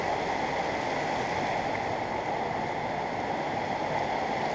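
A river flowing where gold might be found, a steady, loud rushing wash of water that continues without a break and is heard alone.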